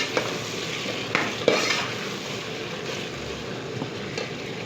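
Onions with cumin and black cardamom fry in a pot for kofta curry, a dense continuous sizzle with occasional sharp scrapes and knocks of a spoon stirring, close and steady without speech.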